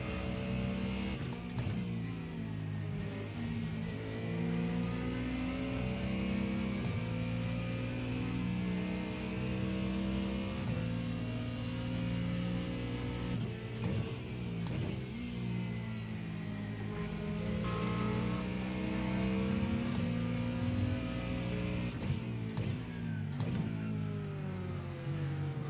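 A GT3 race car engine in iRacing at Laguna Seca, revving hard and climbing through the gears with a steady harmonic whine, loud and continuous for the whole stretch, no talk over it.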